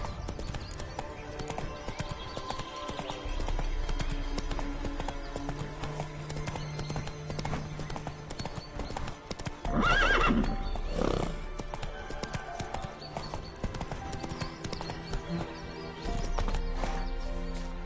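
Roach, a horse in The Witcher 3, clip-clops along in steady rhythmic hoofbeats with a brief neigh midway, set against a game music and ambience bed and heard clearly up close.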